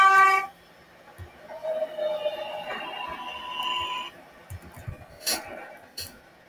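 A Q Express subway train bound for 53rd Street in Roblox rumbles and hums, with tonal whines rising and falling and occasional clanks, at moderate volume.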